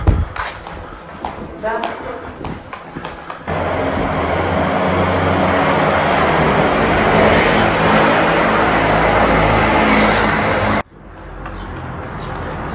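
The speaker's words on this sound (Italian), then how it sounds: "quando passano queste macchine non si respira dentro il tunnel" Cars pass through a tunnel cut in yellow tuff rock, a loud sustained roar that swells and fills the tunnel before cutting off, with a voice talking before and after.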